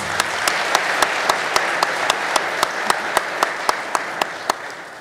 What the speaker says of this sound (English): Please let's give them a warm round of applause.